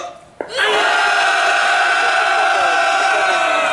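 A sustained roar of massed voices at a protest outside a prosecutors' office in Gimcheon: an angry crowd shout bursts out after a short sharp cue and holds loud and steady to the end.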